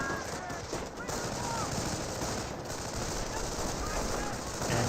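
German MG42 machine gun from inside a garrisoned building in Company of Heroes, a loud dense rattle of gunfire that runs without a break under battle noise.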